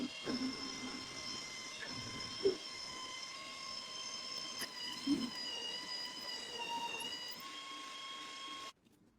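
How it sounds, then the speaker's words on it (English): Grinder shaping a small steel tube for the jaw of a pencil sharpener clamp during a metal restoration, giving a faint steady high whine with a couple of brief scraping bursts, cutting off near the end. "Now for the clamp jaw, I'll shape a small steel tube with a grinder."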